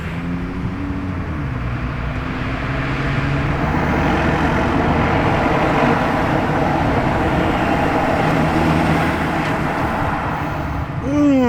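A Ferrari F80 sports car passes on a road in Maranello, its loud, steady engine roar swelling and holding through the pass, with a voice briefly heard.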